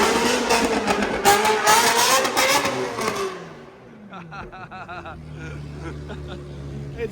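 A drift-built Ferrari 360 engine revs hard and loud up close for a few seconds, then drops to a quieter, uneven burble as other engine and voice sounds continue underneath.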